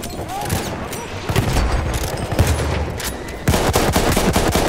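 Battlefield 1 multiplayer combat among large destructible buildings, with dense gunfire cracking continuously, a louder blast, and more firing after it. People speak over the steady din.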